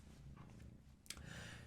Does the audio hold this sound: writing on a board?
no